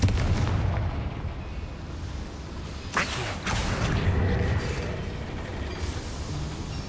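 A Confringo blast spell goes off in Hogwarts Legacy, a single sharp booming impact midway through, set against a rumbling, continuous game backdrop inside a mine.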